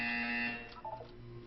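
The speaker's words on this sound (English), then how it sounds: "You will hear a buzzer." A harsh, steady electronic buzzer from the video game Portal 2 sounds loudly for about half a second, then fades into a quieter tonal hum with a faint flutter.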